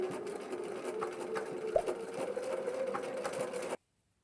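A beginner's sewing machine runs continuously on a skirt hem, a steady close whirring hum with a faint clunk midway, stopping abruptly just before the end.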